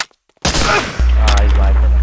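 Gunfire in a video game: silence, then a sharp loud shot and rolling blast followed by a sustained low drone, close and forceful.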